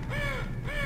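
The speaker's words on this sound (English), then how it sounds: "Freaking birds everywhere." Crows in the video game Half-Life 2 give loud, close caws, two harsh calls in quick succession.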